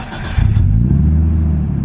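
A Nissan Skyline engine cold-starts with a quick crank, then catches and settles into a loud, rough idle close by.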